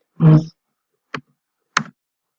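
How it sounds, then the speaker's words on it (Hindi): Loud, close clicks from computer keyboard buttons: one longer, heavier press and then two short, sharp separate clicks with silence around them. "कीबोर्ड के बटन से बहुत साउंड आ रही है,"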